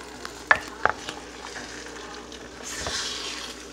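Faint sizzling and crackling from vegan chili in a hot pot, with a few soft clicks and a stirring scrape near the end.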